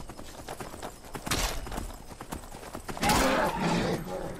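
Rhythmic clip-clop of horse hooves in Skyrim, steady and close, with brief louder impacts and a burst near the end.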